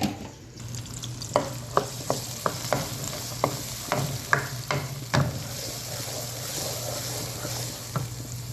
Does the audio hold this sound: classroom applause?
no